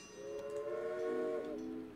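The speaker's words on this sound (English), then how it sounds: "Just gonna run one train right now." In the Railway Empire video game, a train sounds a sustained, tonal horn or whistle for about two seconds at moderate loudness, fading at the end, with no voices.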